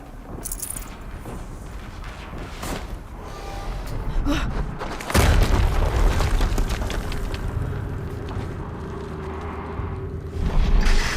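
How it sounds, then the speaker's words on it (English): Explosions boom in the Horizon Zero Dawn video game, a heavy rumbling blast that swells midway and another burst near the end, loud over busy game noise and effects. "Another explosion."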